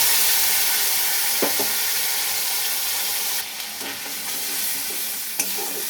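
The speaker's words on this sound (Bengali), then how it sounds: "এই মশলাটা এবার আমি একটু ভালো করে ভেজে নেব।" Ground spice paste frying in hot oil for a Bengali fish curry, a steady loud sizzle with occasional sharp stirring scrapes and a brief lull partway through, no voices.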